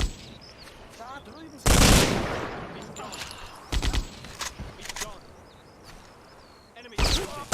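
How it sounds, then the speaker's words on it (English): Machine gun fire in the World War II shooter Hidden & Dangerous II, loud bursts of automatic fire separated by quieter stretches of battlefield ambience, with a few scattered shorter volleys. "The machine gun fire will cut them down."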